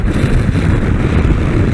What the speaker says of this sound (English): So you can see it's still a little bit windy